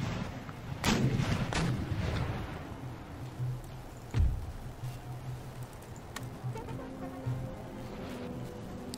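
Artillery guns firing in Empire: Total War, a series of booming shots with one especially heavy blast near the middle, set against a constant low battlefield rumble with crackling, more distant fire.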